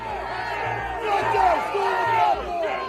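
A large crowd of protesters at the Capitol roars with overlapping shouts, whoops and yells, loud and close, swelling midway, with chanting voices rising above the general hubbub.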